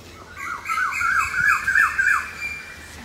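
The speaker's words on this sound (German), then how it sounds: "Hört mal den tollen Vogel hier." A bird gives a run of repeated rising-and-falling squawks, clear and fairly close, with no talking.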